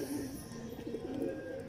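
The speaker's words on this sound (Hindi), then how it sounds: "कोने वाला टैडी कबूतर है।" A corner teddy pigeon coos in a steady, low, throaty murmur that runs unbroken and fairly close, with no voices over it.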